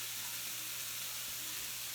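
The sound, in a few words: food sizzling in a pan while cooking lasagna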